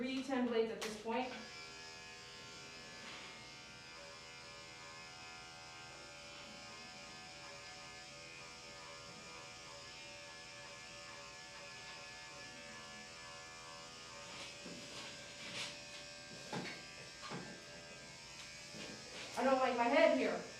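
Electric dog grooming clippers fitted with #10 blades run in a steady, close, continuous buzz, broken by brief handling noises near the start and end.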